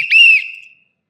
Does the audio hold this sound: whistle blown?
yes